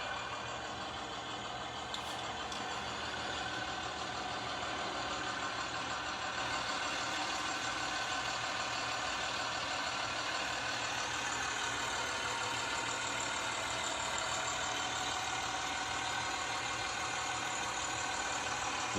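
A 2000 Blue Bird TC2000 school bus with an ISB 5.9 liter turbo diesel engine idles steadily, a continuous broad rumble and hiss held at an even level throughout with no talk.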